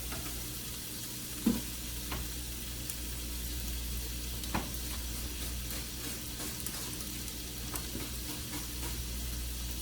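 Pork pieces for carnitas sizzle steadily in a hot pan, a dense continuous crackle with a few sharper pops and the occasional clunk of stirring, and no voices.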